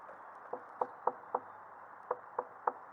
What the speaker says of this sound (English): I can knock.